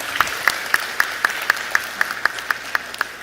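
An audience at a BPIP event breaking into rhythmic, evenly spaced clapping, about a dozen sharp unison claps roughly four per second over a low hall murmur.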